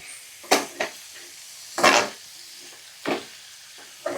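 Paneer curry being stirred in a pan: a few separate scraping, clattering strokes of a spoon against the pan over a soft background sizzle, with short pauses between them.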